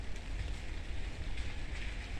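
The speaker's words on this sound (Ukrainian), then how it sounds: "Все дощик іде, такий жорсткий." Heavy rain falls in a children's cemetery in Kyiv, a steady close hiss of drops on the ground and surfaces. It carries on evenly, with no talking.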